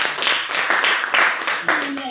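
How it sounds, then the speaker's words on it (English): Participants at a reading facilitators' training applaud themselves, uneven clapping that swells in several bursts, with voices mixed in. "Give yourselves a round of applause"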